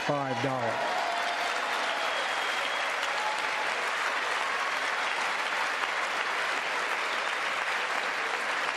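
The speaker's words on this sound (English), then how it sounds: "Take note of the Republicans clapping" Republican lawmakers in the chamber at a State of the Union address break into sustained applause, a dense wash of clapping that follows a brief spoken line at the start and runs steadily to the end.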